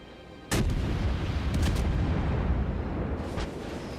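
Naval guns firing from a Baltimore-class cruiser in a warship video game: a sudden loud blast, then a rolling rumble with more booming shots layered on it, and no talk.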